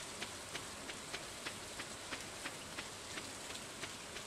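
Rain falls in Stardew Valley as a soft, faint, even hiss, with light regular ticks recurring about three times a second throughout.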